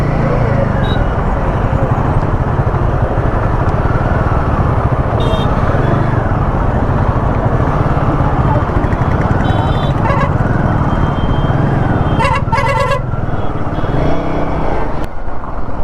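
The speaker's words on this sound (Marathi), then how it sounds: "हेच आहे ते ट्रॅफिक प्रयागराजचं" Dense road traffic in Prayagraj during the Mahakumbh gathering: a constant loud rumble of cars and motorbikes, with short horn blasts sounding at intervals and a cluster of honks near the end.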